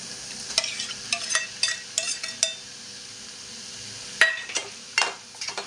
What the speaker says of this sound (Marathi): मिक्स करूया टॅमॅटो कांद्यामध्ये